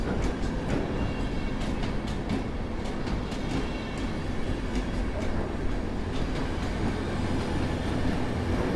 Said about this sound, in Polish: opóźniony pociąg ekspres Intercity z Sprewa